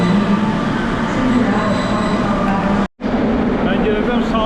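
A subway train rumbles steadily through a Rio de Janeiro metro station, loud and continuous with a brief drop to silence partway, voices faintly mixed in.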